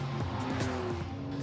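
A Porsche 911 Carrera GTS drives on a race circuit, its engine note rising and falling in a brief, strong burst with a slight tire-scrub edge, close and loud.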